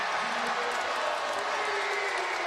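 A basketball arena crowd cheering during a North Carolina college game, a steady, dense roar of many voices that keeps up without a break.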